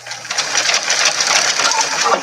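A sewing machine stitches fabric for makeup pouches, giving a loud, close, steady whirring hum with a fast, even pulse of stitches running throughout.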